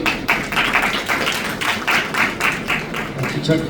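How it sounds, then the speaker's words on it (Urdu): A church congregation claps loudly to welcome an arriving guest, a dense, steady burst of hand claps in a fairly even rhythm, close and sustained throughout. "ان کو ویلکم کرتے ہیں زوردار تالیوں سے"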